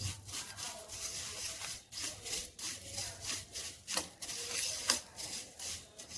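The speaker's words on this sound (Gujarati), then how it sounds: "આ રીતે ઘી સાથે અને મસાલા સાથે પાપડ એકદમ સારી રીતે આપણે મિક્સ કરી દઈશું." Crushed papad is stirred with ghee, Kashmiri red chilli and spices, producing a continuous dry, crisp rustling and scraping with rhythmic strokes, close and fairly soft, with no talking.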